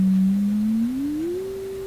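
A pure sine test tone is fed through the crossover of an Electrohome Kalmar console stereo receiver. It holds low and steady, then glides smoothly upward in pitch, clear and alone, with no talking.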